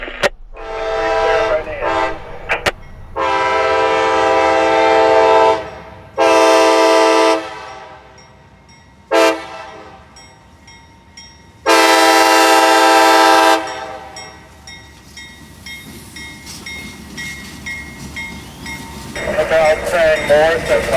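A Tropicana freight train on the Palmetto line, the inbound L700, sounds a loud horn in several long blasts with short gaps, then rumbles on more quietly before rising again as it approaches.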